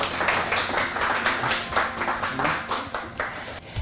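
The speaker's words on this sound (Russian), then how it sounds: "Ваши аплодисменты." Audience clapping at an Oriflame business breakfast award ceremony, many hands beating in a dense, slightly rhythmic patter that carries on steadily, with faint voices underneath.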